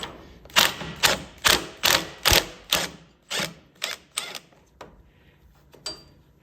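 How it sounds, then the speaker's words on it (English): An impact wrench works rusty bolts loose on a Buick Dauntless V6 during engine removal, firing about ten sharp rattling bursts in a fairly even rhythm, loud and close, then fading to a few scattered knocks. "use the impact to kind of spin through all the rust"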